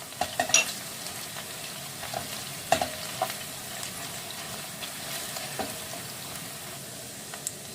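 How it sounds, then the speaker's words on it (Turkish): Onions fried with pepper paste and tomato paste sizzle softly in a pan for spinach stew, with a utensil stirring and scraping now and then in sharp clinks and knocks, no voices. "Bunu güzelce kavuruyorum"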